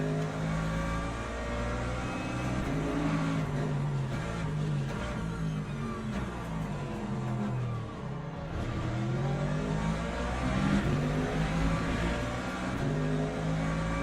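Race car and hypercar engines in Le Mans Ultimate drone and whine steadily, pitch rising and falling through gear changes as cars run close together, loud and continuous with no talk.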